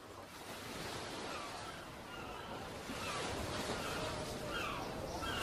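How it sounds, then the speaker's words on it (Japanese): Ocean waves wash continuously against the sea at sea during a sea voyage, a steady broad surf rush with a light windy hiss and no voices. "こうして波の音に耳を傾けるのもまた船旅の醍醐味なのじゃ"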